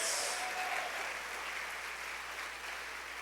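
Church congregation applauding in praise, a continuous wash of many hands clapping at a fairly even level that eases off slightly toward the end, with no talk over it.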